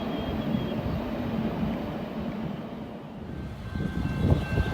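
A daily southbound intermodal freight train rolls through Sidney, Ohio, giving a steady, fairly loud low rumble of rail cars that holds throughout with no talk.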